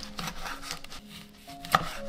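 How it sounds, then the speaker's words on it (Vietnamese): A knife chops cilantro and green onions on a cutting board in a home kitchen: a few quick, crisp close taps, with one sharper chop near the end and no voices. "Rồi ngò rí mình cũng cắt nhỏ chung với hành lá để chút mình nêm"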